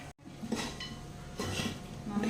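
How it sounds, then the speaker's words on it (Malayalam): Chicken curry being stirred in a cooking pot on a stove, with a spoon scraping and clinking against the metal in steady bursts, close and moderately loud, with light background noise. "നന്നായിട്ട് മിക്സ് ചെയ്യണം കേട്ടോ"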